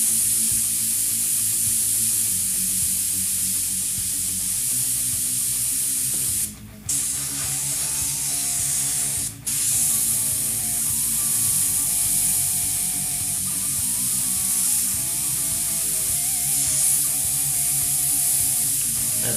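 An airbrush sprays paint in a long, steady hiss that runs near-continuously at close range, broken by two brief pauses, with soft background music beneath.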